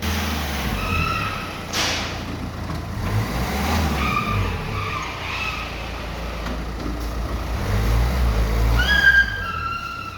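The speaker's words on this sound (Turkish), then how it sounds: "dört mevsim lastikler aracı çok yorar ve yorduğu gibi de aşırı derecede ses çıkarır" Four-season tyres hum and roar over asphalt as a car drives along, a constant close rumble with occasional squeaks and faint whistling tones above.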